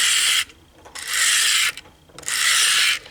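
A steel blade scrapes across the 300 grit side of a four-sided diamond hone block in three rasping strokes, each a bright gritty rub with brief pauses between, close up.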